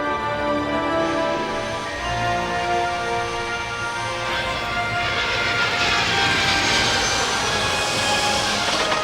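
Commercial jet airliner engines roaring steadily, a loud continuous broadband rush with a rising high-pitched whine building toward the end, no voices.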